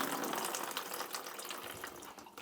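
Dirty water from an aquarium filter media container pours and splashes steadily back into the tank, a continuous broadband gush with no pauses.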